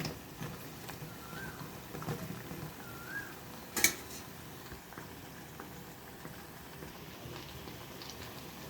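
Garelu, lentil fritters, frying in plenty of oil, a steady soft sizzle and bubbling heard alone at low volume, with a brief metallic clink near the middle.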